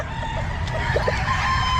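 A rooster at the Calumpit pet market gives a couple of short clucks over the steady background hum of a busy market.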